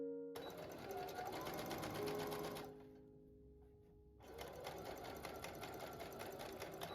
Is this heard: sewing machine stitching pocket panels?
yes